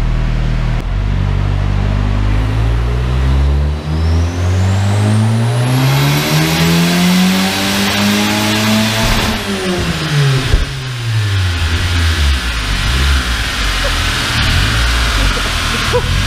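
Turbocharged Ford Zetec engine on a dyno, loud and close, climbing in one long rising rev to a high-pitched peak with turbo whine above it, then dropping back and burbling at lower revs.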